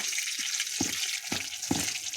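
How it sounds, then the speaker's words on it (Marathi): Red chili, garlic and cumin tempering for a home-style dal tadka sizzle steadily in hot oil, a bright hiss with a few soft knocks of a spoon stirring, fairly quiet and without talk. "तर आता त्याच्यामध्ये लाल मिरची आपण टाकून घेणार आहेत हा खास तडका फोडणी तडका जिरा लसूण आणि लाल मिरची"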